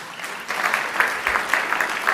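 Brief burst of audience clapping in a chamber during a State of the State address, a steady wash of many hands at close range that rises slightly partway through, with no speech over it.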